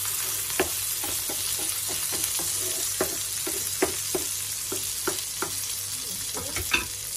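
A homemade beef burger patty fries in a pan, a steady close sizzle broken by scattered clicks and scrapes of a turner.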